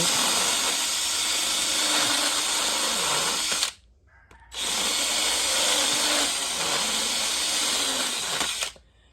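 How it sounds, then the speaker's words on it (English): A standard deburring bit whines loudly and steadily as it cleans debris from around a broken bolt during an LS 5.3 boat engine swap, stopping briefly and then spinning up again for several seconds. "So all I have here is just a standard deburring bit, nothing special."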